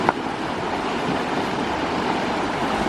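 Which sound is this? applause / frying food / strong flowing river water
strong flowing river water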